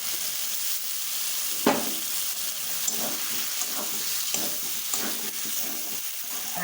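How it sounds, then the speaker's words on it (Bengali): Potatoes fry in hot oil in a pan for egg and potato curry, a steady close sizzle broken by light scraping and stirring knocks. "আলু দিয়ে আর একটু ভালো করে কষাবো।"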